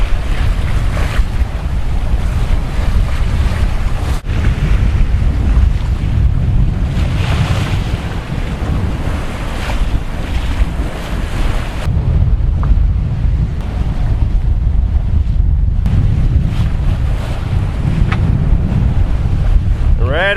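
A sailboat cruising at about 12 knots off the northeast corner of Puerto Rico, with steady loud wind buffeting the microphone and continuous waves rushing against the hull, sustained throughout without talk.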